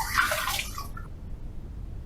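Tap water splashes briefly while a razor is rinsed during a wet shave, a short close burst of running water that cuts off within a second, leaving quiet room tone.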